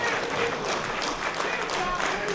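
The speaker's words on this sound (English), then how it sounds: "I want to hear some clapping now." An audience at a lecture or debate claps together in a sustained patter of applause, moderately loud and fairly even, with voices mixed in underneath.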